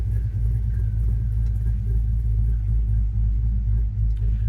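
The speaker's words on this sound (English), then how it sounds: "Stainless steel dual exhaust sounds really, really good." A 1972 Chevy C10 pickup with an LS engine and stainless steel dual exhaust idles with a deep, steady rumbling burble, close and continuous throughout with no talk.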